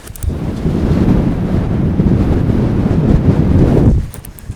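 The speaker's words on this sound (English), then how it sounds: "That wind is so strong. I hope the microphones aren't picking up too much wind." Heavy wind on a UK sea shore batters the microphone in a loud, continuous roaring rumble that drops away abruptly near the end.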